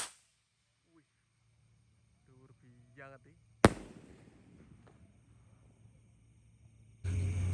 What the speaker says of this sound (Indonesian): ini penutupnya yang terakhir, roket kombi terbesar warna hijau